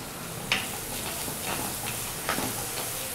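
Onions and curry leaves sautéing in oil for sundakkai vatha kuzhambu give a low, steady sizzle with occasional light ticks and scrapes from stirring, close and quiet, with no talk.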